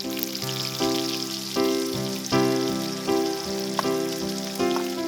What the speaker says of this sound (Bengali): তেলে এখন ভাজা হবে পেঁয়াজ,